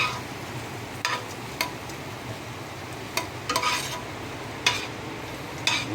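Food being sautéed in a pan, a steady low sizzle broken by several close scraping stirs of a utensil against the pan at irregular intervals.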